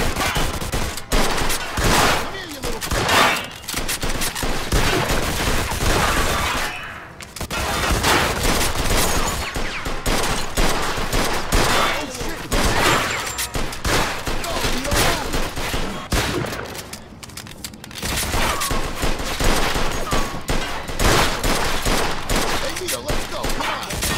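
Gunfire in the Mafia 2 Definitive Edition video game: loud, dense bursts of rapid shots and fusillades with only short lulls, while voices shout now and then.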